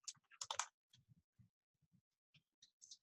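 Quiet, close computer keyboard typing, a quick cluster of crisp key clicks followed by sparser, separated taps, with no talking.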